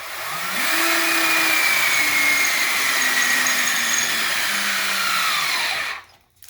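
A power drill bores with a steady high whine while mounting a supercharger on a 2019 Mustang GT, loud and close for about five seconds before cutting off abruptly, with no voices.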